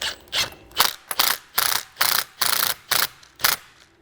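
Impact gun snugging a strut fork nut on an Audi S5 during a coilover install, about eight short loud rattling bursts in a quick uneven rhythm, close and alone.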